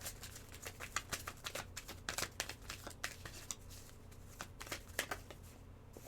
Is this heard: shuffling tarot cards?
yes